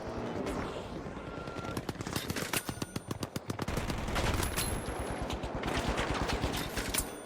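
AK rifle fire in a zombie video game, rapid bursts of sharp loud shots in quick succession over a dense game soundscape of rumbling and effects.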